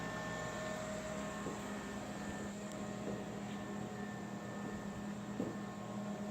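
A cooling fan whirs steadily inside the VFD control box of an Enco mill, alongside a braking resistor and breaker. It is a constant broadband hum with faint tonal lines, close by and unbroken, with no talk.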